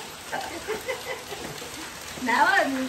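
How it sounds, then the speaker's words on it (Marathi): Heavy rain falls outside a home, making a steady soft patter beneath a person speaking, with the talk growing louder toward the end. "या व्हिडिओमध्ये तुम्हाला पावसाचा खूप आवाज येत असेल"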